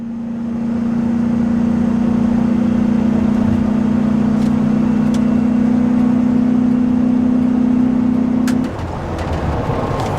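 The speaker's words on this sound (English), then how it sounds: "and here's wide open throttle" A 23-year-old Dodge Ram 2500 pickup engine held at wide open throttle while towing a trailer gives a loud, sustained droning roar with a steady strained tone that drops away near the end.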